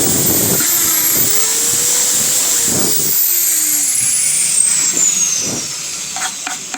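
A drill bores wire holes in a wooden speaker box, with a whining motor note that rises and falls under short, gritty cutting bursts at close range.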